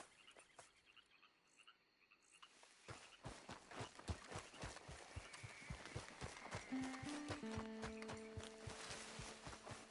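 Horse hooves in Red Dead Redemption 2 start after a quiet opening, then thud in a fast, regular rhythm that grows louder as the horse comes near, with a drawn-out tonal whinny-like cry toward the end.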